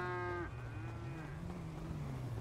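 Cattle lowing in the video game GTA 5, with one moo breaking off and a second long, drawn-out moo following, faint and close with no talk over it.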